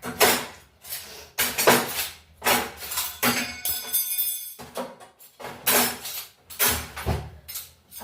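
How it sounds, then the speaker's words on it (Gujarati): Steel kitchen utensils clatter and clink in bursts as dishes are stacked and set in place, with sharp metallic knocks and short pauses between handlings, close and moderately loud. "જલ્દી વાસણ ગોઠવી લો"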